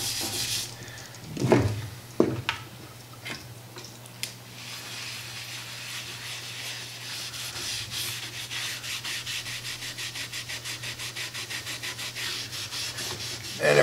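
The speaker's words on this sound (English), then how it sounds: "But I'm just going to apply this stripper" Steel wool scrubbing paint stripper across a Lane Acclaim wooden table, a steady close rasping rub with a few sharper scrapes early on, continuing without talk.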